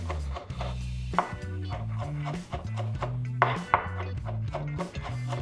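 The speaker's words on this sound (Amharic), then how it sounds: "በማስከተል ደግሞ የሚከተፈው ነጭ ሽንኩርታችን ነው።" Garlic is chopped with a knife on a board in quick, close, regular taps under steady background music.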